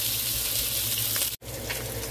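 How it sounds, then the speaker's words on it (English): Bacon fries in a pan with a loud, steady sizzle and crackle, broken by a brief moment of silence before the sizzling resumes. "I'm not going to fry the bacon all the way through"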